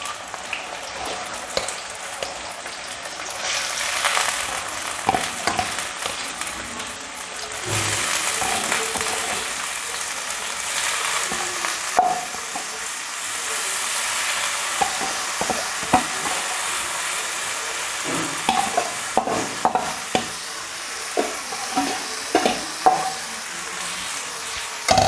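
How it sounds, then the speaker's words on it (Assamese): Pounded sticky rice fries in hot oil in a wok, a steady crackling sizzle broken by repeated scraping and knocking stir strokes that grow more frequent toward the end, close and fairly loud. "এতিয়া কেৰাহীটো তেলখিনি গৰম হ'লে এতিয়া আমি এই টুকি থোৱা বৰা চাউলখিনি লাহেকৈ এই তেলতে দি দিম।"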